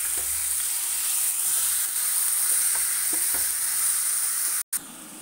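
Chicken pieces sizzle steadily in a kadai with sliced onions, Malabar style, while a spoon stirs them in soft, regular scrapes; the frying hiss stays continuous and close throughout, with a brief cut near the end.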